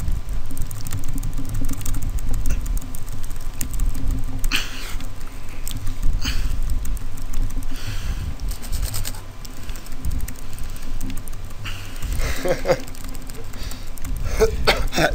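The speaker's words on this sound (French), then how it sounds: "Clavier." Computer keyboard typing during a French Castle Crashers gameplay session, a steady patter of keystrokes mixed under constant game music and sound effects throughout.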